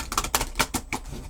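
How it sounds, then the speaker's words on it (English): A deck of tarot cards is cut by hand, giving a quick run of about six soft, crisp card flicks and taps in an even rhythm. The sound is close and quiet, with no voice. "I'm just going to cut the deck"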